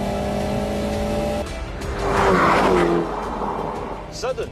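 An Alpine sports car with a 1.8-litre 252 hp engine accelerates hard, its engine note rising and swelling loudly to a peak before easing off, with a voice speaking over it.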